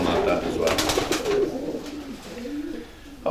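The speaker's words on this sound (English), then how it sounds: "Sean, another nice pencil whitefly hen pigeon there in your hand." A pencil whitefly hen pigeon coos softly at close range, low rolling calls half masked by someone talking over them and by handling noise.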